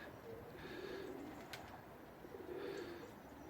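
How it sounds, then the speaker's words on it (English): Pigeons in an outdoor aviary coo softly in slow, repeated phrases, faint and low in level against a steady outdoor background hiss, with no voices. "I'm just looking at the pigeons out here in the aviary."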